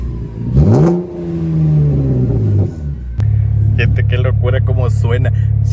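A Chevrolet Camaro with a new exhaust revs loud and deep, swelling and falling, then settles into a heavy, steady rumble as a voice talks over it.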